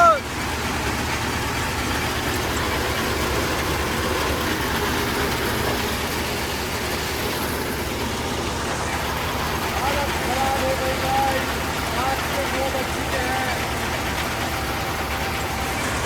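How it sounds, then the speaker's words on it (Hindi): A tractor engine drones steadily at night as the tractor pulls away toward another field after mustard threshing, with a continuous rumble under people talking. "घाई करके ट्रैक्टर तो जाने लगा दूसरी घाई करने दूसरे खेत में"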